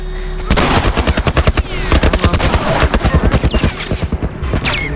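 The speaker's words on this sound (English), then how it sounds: "they're still shooting at me" Rapid automatic gunfire in The Last of Us video game, loud and close, with dense bursts of shots rattling continuously over several seconds.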